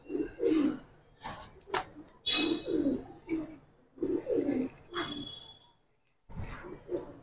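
Old-line giribaz pigeons, silver birds in a Bangladeshi collection, coo close by in a series of low, throaty phrases with brief pauses between them, with faint voices in the background.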